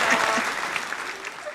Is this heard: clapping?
yes